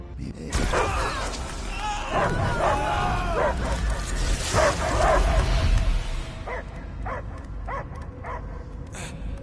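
Dogs bark, yip and whimper in the video game Marvel's Guardians of the Galaxy, a series of sharp barks clustered near the start and middle, with fainter yips later and a character's voice over them.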